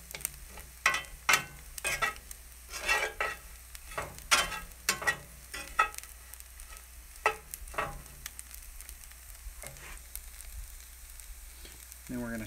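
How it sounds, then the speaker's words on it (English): Tempeh coated in seasonings fries in a pan over medium-low heat, giving a quiet sizzle with scattered crackles and pops that come close together early and thin out later. "You're just going to cook it for a minute and then let the seasonings kind of cook on the pan."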